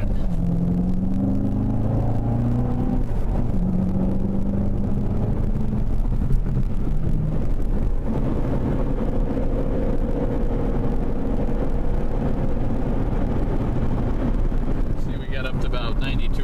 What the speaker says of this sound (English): About 92 or 3 pulled onto the highway there in 5th gear when we kind of topped out